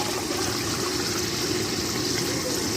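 Almost 3 kilos of water is poured into a large pot of rice for a restaurant-style beef kofta pulao, a steady, close, continuous gushing rush.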